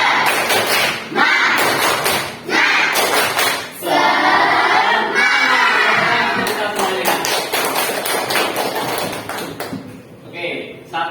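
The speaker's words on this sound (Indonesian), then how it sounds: "Oke, kita tepuk semangat dulu biar lebih semangat." Students in a classroom perform the Indonesian tepuk semangat, chanting loudly in unison between bursts of rhythmic group clapping, with sharp patterned claps alternating with shouted chant lines.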